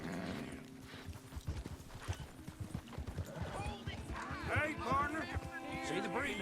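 Horse hooves clip-clop at a walk in Red Dead Redemption 2, followed by snorting and a whinny from the horse, with someone talking over the steady hoofbeats.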